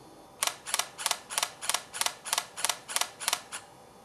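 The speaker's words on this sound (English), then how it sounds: "The G1 offers a continuous shooting rate of 3 frames per second." Panasonic Lumix DMC-G1 camera shutter firing in continuous shooting at 3 frames per second, ten crisp double clicks at a steady rhythm, close and isolated against a quiet background.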